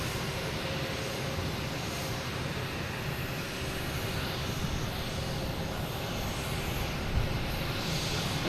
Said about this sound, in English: There's the American Airlines.